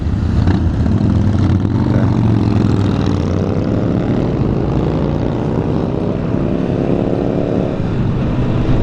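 Honda CB1000R motorcycle engine on a test ride, shifting up from first to second and into third gear: a loud, continuous engine roar with rising pitch sweeps between shifts, heavy wind noise throughout.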